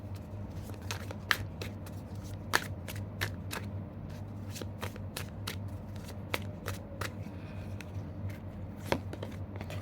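A tarot card deck being shuffled close up: a steady papery riffle and slide of cards with sharp flicks and taps scattered throughout, fairly soft, with no talking.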